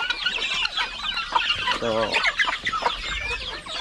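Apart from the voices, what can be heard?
turkeys on a farm, a male turkey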